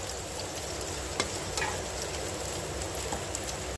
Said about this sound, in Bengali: এবার নাড়াচাড়া করে নিলাম